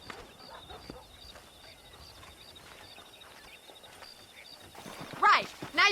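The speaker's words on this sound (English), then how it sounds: "Let's see if we can't wrangle some horses." Horses trotting in Red Dead Redemption, quiet rhythmic clip-clop of hooves under soft ambient outdoor sound, with a couple of louder bursts near the end.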